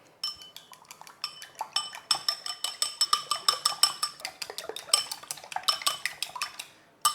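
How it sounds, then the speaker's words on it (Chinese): Eggs seasoned with soy sauce and pepper are whisked in a bowl, a fast rhythmic series of bright clinks and taps from utensil against the bowl, close and steady for several seconds before stopping. "然后我们就把这个鸡蛋打散。"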